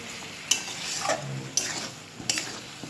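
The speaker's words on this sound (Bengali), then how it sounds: "আবার নাড়াচাড়া করে আবার ওই চাপা দিয়ে আবার কষাতে দেব" Chicken fried with crushed ginger and garlic for coriander chicken, stirred in a pan: three distinct scraping strokes of a spatula over a soft, constant sizzle, close and fairly quiet.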